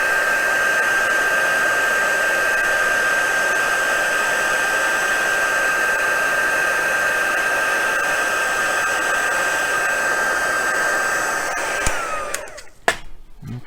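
A heat tool used for embossing blows with a loud, steady whooshing hiss and a high whine for about twelve seconds, then clicks off and rattles briefly as it is set down.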